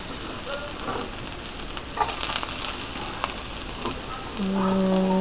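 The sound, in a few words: garlic sizzling in olive oil in a pan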